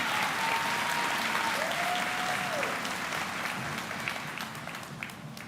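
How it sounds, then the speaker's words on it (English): Graduates at the 2025 Southwest Edgecombe High School graduation give a steady round of applause that holds for several seconds, dense and even with a thin tone drifting through, heard from a moderate distance and slowly easing. "Please, graduates, give all of those people a round of applause"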